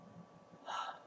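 A sharp inhaled breath taken while lifting the arms in an easy yoga stretch, a single brief airy intake that swells near the end after a quiet stretch of faint room tone.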